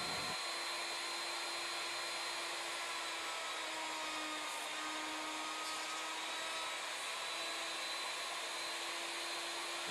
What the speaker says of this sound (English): You can see how quickly the router is positioned for each cut using the new rack and pinion upgrade.